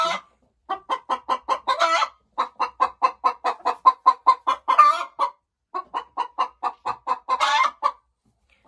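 A hen clucks close up in rapid, rhythmic runs of short notes, pausing briefly between bursts, with a few louder squawky calls mixed in.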